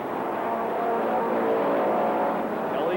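A race car roars down the back stretch at Rockford Speedway during the 1998 Bahama Bracket Nationals, its engine a steady mid-pitched drone at moderate distance with no talk.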